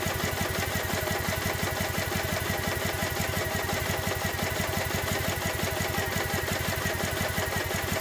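A Triumph Bonneville motorcycle engine with one cylinder not firing runs roughly at a steady idle, giving a close, loud, uneven thumping pulse with mechanical clatter that continues without pause.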